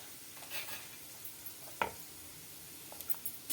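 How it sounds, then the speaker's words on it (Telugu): Amla (gooseberry) pieces gently sautéing in leftover oil for a pickle, a faint, soft sizzle with a few quiet stirring scrapes and one sharper knock. "ఇప్పుడు ఈ మిగిలిన నూనెలో ఈ ముక్కలు కూడా వేసి లైట్గా మగ్గిచ్చేయాలండి."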